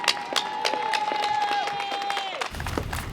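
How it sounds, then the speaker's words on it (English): A crowd applauds and cheers for frontline workers at a heroes' event, with scattered claps and a long rising whistle over general crowd noise before it briefly settles. "Let's give a big round of applause and make some noise for our frontline workers"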